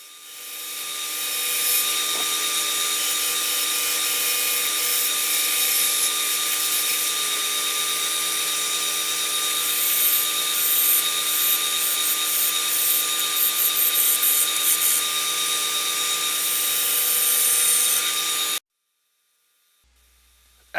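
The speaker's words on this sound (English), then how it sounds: "I begin with the large Easy Wood roughing tool to true up the sides and face" Easy Wood roughing tool truing the sides and face of a maple bowl blank spinning on a lathe, a loud steady scraping rasp with a high whine that runs continuously before cutting off abruptly near the end.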